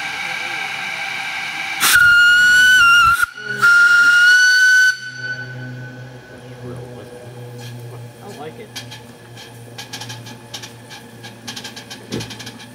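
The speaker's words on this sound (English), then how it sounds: "Do the whistle." A steam locomotive whistle on Waimanalo Sugar Co. No. 3 blows two loud, shrill blasts close by, followed by hissing steam and a chugging engine, with people talking nearby.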